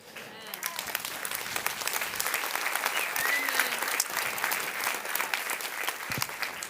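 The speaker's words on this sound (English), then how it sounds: "that applause is for the greatness of the message of the gospel of Jesus" A church congregation applauds during a Sunday service, a steady, full round of clapping that holds at an even level throughout with no talk over it.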